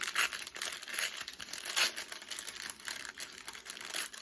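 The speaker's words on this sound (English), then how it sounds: "Let's rip the bag." Plastic bag wrapping a knitting yarn purchase being ripped open, a close, continuous crinkling and tearing with several sharper bursts over about four seconds, no voices.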